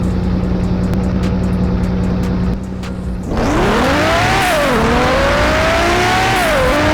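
A car engine in the mobile game Car Parking Multiplayer revs loudly and steadily, its pitch rising and dipping in repeated sweeps, with tire squeal and background music before it.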